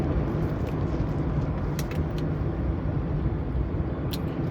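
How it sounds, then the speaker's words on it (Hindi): Steady, dense road traffic on a street in Gandhinagar: a constant rumbling wash of engines from nearby vehicles, with a few faint high tones on top. "बहुत सारा ट्रैफिक अभी दिख रहा है।"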